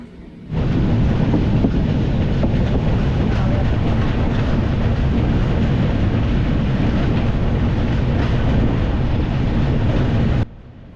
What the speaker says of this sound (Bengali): মাঝরাতে ট্রেন বেরোল বিহারের বারসই স্টেশন